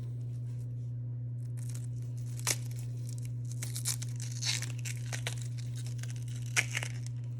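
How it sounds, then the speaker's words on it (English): Papery outer skin being peeled off an onion by hand, a few quiet tearing and crinkling bursts over a steady low electrical hum, close and soft, with no talking. "I'm just gonna take this top layer off like so"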